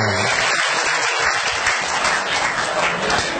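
Dense, sustained audience applause fills the whole stretch at a steady loud level, many hands clapping together as a room full of people responds after a talk on living a long life.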